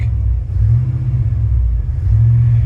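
A 1989 Chevy truck engine rumbles loud and close in a low, steady drone, its pitch lifting briefly twice as the throttle is feathered to keep it from stalling.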